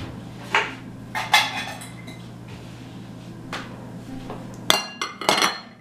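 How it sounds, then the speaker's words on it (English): A bowl is set out on a hard surface for mixing household herbs, making a few light clinks and knocks spread over several seconds, the last ones clustered close together, against a quiet indoor background. "so we're going to get a bowl"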